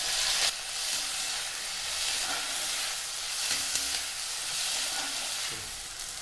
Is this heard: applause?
no